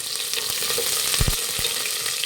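Chopped onions sizzle steadily in hot oil with fennel, cumin and marathi moggu for vegetable pulao. The frying hiss is continuous and close, with a few sharp spatula knocks against the pan near the middle.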